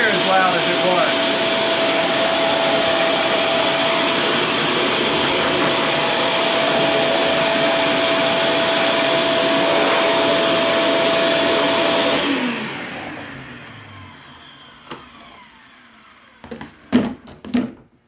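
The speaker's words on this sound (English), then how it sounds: "if we convert it to the blower setup, listen to this. It's nowhere near as loud as it was." A Ridgid WD4070 shop vac set up as a blower runs with a steady, loud whooshing roar for about twelve seconds, then shuts off and winds down, followed by a few brief knocks and handling clatters.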